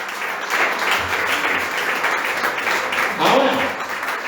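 Church congregation applauding during a sermon, a sustained wash of clapping and cheering from a crowd, moderately loud and even, with voices mixed in.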